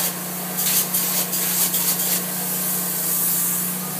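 Open-cell foam insulation being sprayed, a steady close hiss with bursts of stronger spray in the first two seconds, then a continuous even rush to the end.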